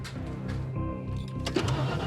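A car engine cranks and catches when the ignition is turned, with a hose pipe connected to the exhaust, then settles into a steady mid-pitched idle with a brief rise near the end.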